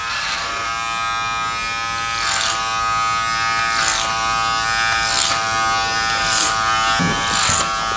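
Electric hair clippers buzz steadily and loudly, cutting hair at the back of the head, with brief scraping bursts as the blades pass through long hair, and no voices.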